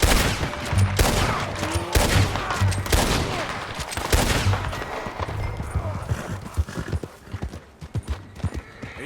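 Gunfire in the video game Red Dead Redemption 2, with sharp shots scattered among loud, rhythmic horse hooves clopping close by, the shots thinning into occasional isolated cracks toward the end.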